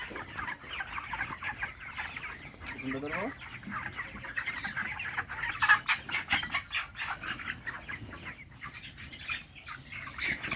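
Broiler chickens clucking and squawking as they are caught in a coop, a flurry of agitated calls and a wing-flapping scuffle over steady background noise, with a faint voice now and then.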